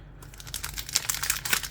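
Crinkly foil wrapper being torn and crumpled while a Pokémon card booster pack is opened up close, a quick run of papery rustles and rips over about a second and a half.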